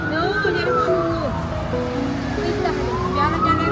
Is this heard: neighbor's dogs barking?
no